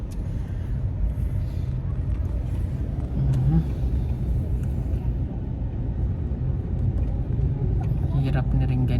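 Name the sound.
car driving, heard from inside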